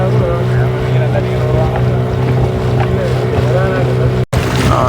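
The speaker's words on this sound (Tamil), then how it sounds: "இந்த போட் வந்து எங்களுக்கு பின்னால் வந்தது. அது இன்ஜின் பவரும் கூட" An engine-powered boat passes close by during a sailboat race on the sea at Arali, Jaffna, its steady motor drone mixed with wind noise throughout.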